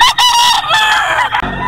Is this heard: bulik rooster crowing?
yes